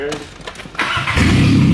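A freshly repaired car engine cranks and catches, settling into a loud rough idle with a possible exhaust leak, voices audible around it.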